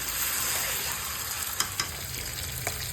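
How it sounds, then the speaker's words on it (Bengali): Onion, garlic and paneer frying in a pan, a close, steady sizzle with occasional sharp pops and light stirring scrapes throughout. "এদিকে মাংসের পেঁয়াজ রসুন ভাজার সাথে সাথে এদিকে পনিরটাও ভাজা হচ্ছে"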